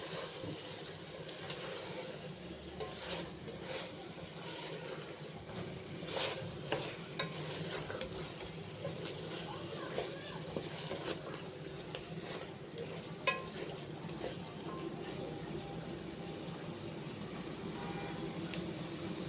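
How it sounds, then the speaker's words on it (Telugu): Stuffed brinjals stir-fried in tomato masala, heard as a low, fairly quiet sizzle with repeated scraping stirs of a spatula and a faint background rumble, continuing steadily throughout. "ఇవి యాడ్ చేసుకొని ఒక వన్ మినిట్ వరకు కలుపుతూ ఫ్రై చేసుకుందాం"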